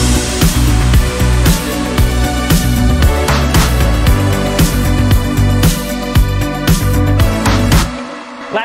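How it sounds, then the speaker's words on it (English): A Juno-style brass pad synth from a BR88 Spectrum pack, in an 80s pop and disco mix, holds sustained chords under a driving four-on-the-floor beat with punchy drums and bass, loud and dense throughout. "It's just basically a Juno brass pad."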